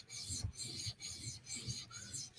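A knife blade is drawn across a sharpening stone in rhythmic back-and-forth passes, a steady raspy scraping repeated about every half second, close and moderately quiet.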